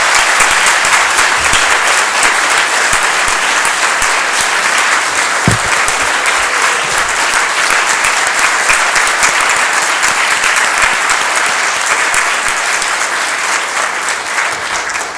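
Sustained, loud applause from an audience at a municipal midterm ceremony in Somerville, Massachusetts, honoring the police chief; steady clapping fills the whole stretch and fades slightly at the end.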